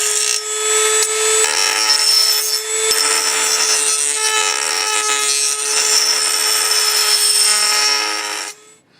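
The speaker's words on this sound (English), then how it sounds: "I'm going to take this and I'm going to see if I can enlarge the inside diameter of this ring here." Grinding inside the aluminum diffuser ring of a Leslie RS to enlarge its inner diameter, a loud continuous abrasive whine with a steady tone and rubbing texture, close up, stopping at the end.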